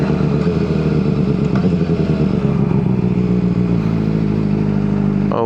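A Honda CBR600RR motorcycle at full throttle gives a loud, close, steady engine roar with dense harmonics and a continuous rumble throughout.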